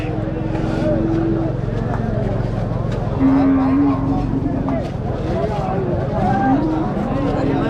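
Native cattle moo at a crowded weekly livestock market in Madrapalli, long low calls rising over a steady din of crowd chatter and people talking nearby.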